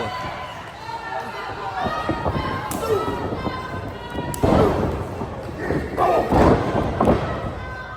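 A pro wrestler is slammed onto the ring mat at a wrestling event, giving a few heavy thuds and impacts under the commentator's continuous talk, with crowd noise faintly behind.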